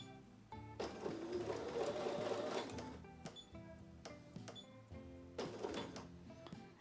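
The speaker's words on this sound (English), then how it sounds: "I'm going to sew until I hit the next line." A sewing machine stitches a Martha Washington Star quilt block in two long bursts of steady, rapid needle hum, separated by a pause with soft clicks and handling noises as the fabric is pivoted.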